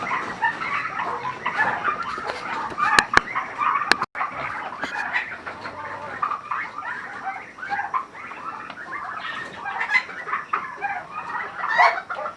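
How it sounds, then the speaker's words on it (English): Farm poultry, turkeys, chickens and quails, cluck and chatter continuously at close range, a busy overlapping jumble of calls with a few sharp clicks and no voices. "There's some turkeys. chickens. And some quails."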